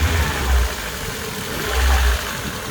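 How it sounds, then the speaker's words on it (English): An MG ZR 120 engine revs twice in short, loud blips over a smooth, slightly fruity exhaust idle, heard close with no talking. "Very nice sounding engine."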